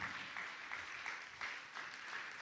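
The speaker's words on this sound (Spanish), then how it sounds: "Si le puedes dar palmas al Señor." A church congregation claps along at a service, with rhythmic hand claps in a steady pulse, heard faintly at a distance in a reverberant space.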